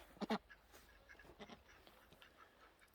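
A few quacks from ducks being raised abroad, one loud double call near the start and fainter scattered calls after, over steady background noise.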